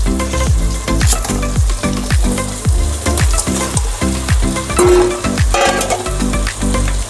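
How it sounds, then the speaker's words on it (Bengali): A barramundi fish head sautés in spice paste in a hot pan: loud, dense frying crackle under fast, rhythmic stirring scrapes repeating several times a second, close up with no voices. "এখন কষানো হচ্ছে। ভেটকি মাছের মাথাটা কষা করবো, ঝোল করবো না।"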